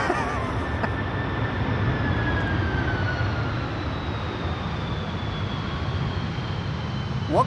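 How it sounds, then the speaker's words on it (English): A KLM Airbus A330-200 lands on Polderbaan runway 18R at Amsterdam, a steady broadband engine roar with thin whining tones gliding downward, loud and continuous throughout, with no speech. "where KLM A330s all of a sudden start using their reversers, and 747s refuse to do so."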